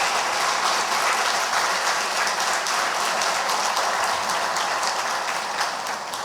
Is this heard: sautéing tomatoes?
no